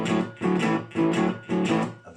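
A blues guitar shuffle rhythm in triplets is played at tempo, with swung chord stabs in four even bursts over about two seconds, close and clear with no talking.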